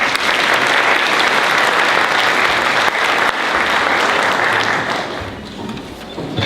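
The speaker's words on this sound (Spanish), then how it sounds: "Pido un aplauso para él." Loud, sustained audience applause at a health forum on obesity and eating disorders, dense clapping holding steady before tapering slightly near the end.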